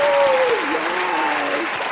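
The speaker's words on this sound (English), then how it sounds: "ask you to join me in a rip-rousing round of applause for today's guest" Talk-show audience applauding and cheering a welcomed guest, a steady loud wash of clapping with a voice whooping and calling over it throughout.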